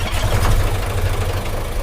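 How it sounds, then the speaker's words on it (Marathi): A fishing boat engine runs close by with a steady, loud low rumble and chugging drone, unbroken throughout. "बघा आता इंजिन स्टार्ट करतायत"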